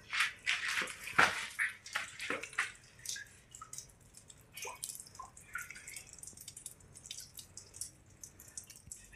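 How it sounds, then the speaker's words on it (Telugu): Water drips from the rock inside the Belum Caves, scattered irregular drops landing close by, some sharp and splashy, others faint, over a quiet background. "ఇక్కడ కొండలో నుండి వాటర్ కారుతున్నాయి."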